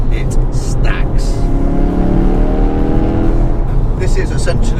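A Ford Focus RS hot hatch with a straight-through exhaust being revved hard, giving a loud, gravelly engine roar that builds and holds, with a brief voice heard at the start.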